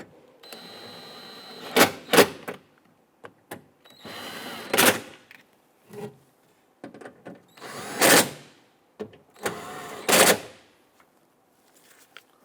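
Bolts on a Honda front power window regulator assembly are snugged down with a power tool in short, sharp ratcheting bursts of rapid clicks, separated by pauses and lighter taps.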